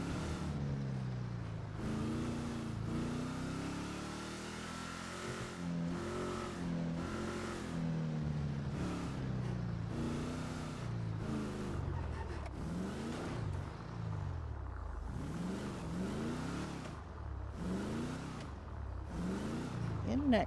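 A Dynasty car in GTA V drives along with its engine revving up and down in repeated rising and falling sweeps, loud and continuous, while a person talks over it at times.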